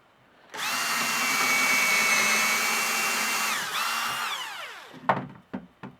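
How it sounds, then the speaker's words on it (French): A Festool drill bores a 4.5 mm hole into a wooden plank, giving a loud steady whine for about three seconds that drops in pitch as the bit slows, then a few sharp knocks. "un alésoir festool avec une mèche forêt de 4 mm et demi"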